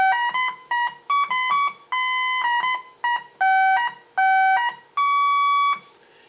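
Bright buzzy synthesizer tones from a Eurorack oscillator with its LFO switched off play a melody of separate held notes, each steady and unwavering, loud and clean with short gaps between them.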